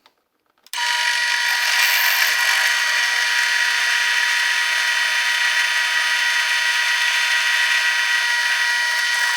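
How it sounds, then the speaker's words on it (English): A power drill boring a hole in a Pietta Colt 1860 Army revolver, a loud steady high-pitched whine that starts abruptly and holds constant for about nine seconds, alone and close. "try to drill it 1/4 inch deep"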